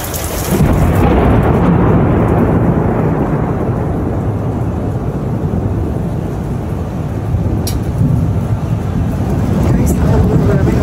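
Heavy rain pours in front of a hotel, a dense steady roar of drops on surfaces, loud and close, with faint voices in the background.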